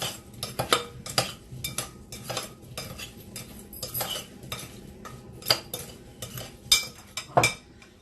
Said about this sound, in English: And then I'll get myself a spoon. Go ahead and toss it around.